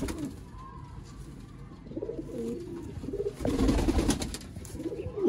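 Sialkoti pigeons cooing nearby in a loft, several soft throaty coos repeating at an uneven pace, louder toward the end.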